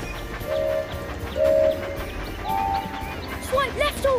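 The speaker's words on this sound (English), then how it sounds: "Keep the train on the track." A toy train in a kids' steering game on Cannonball Curve gives several short tooting whistle notes over a steady rolling rumble, ending with a quick run of chirpy effects.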